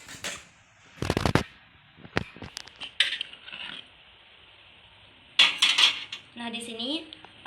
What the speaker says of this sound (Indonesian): Dan kita masukkan alat ke dalam panci